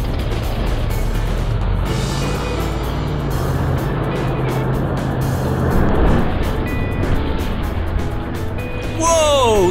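Monster truck jumping over nine buses at a live show, heavy engine roar sustained throughout with a crowd-like wash, building louder near the landing and ending with a rising whistle-like sweep.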